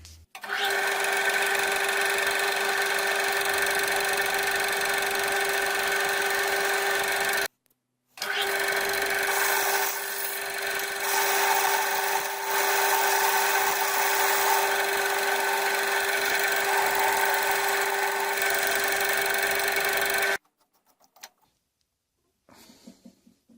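An Atlas lathe drills into hot rolled steel with a steady whining, grinding hum and a strong tonal whine. The noise runs continuously for about twenty seconds, broken by one short pause, then stops.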